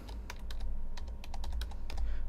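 Rapid computer keyboard typing, close and crisp, with bursts of key clicks in uneven runs over a low background hum.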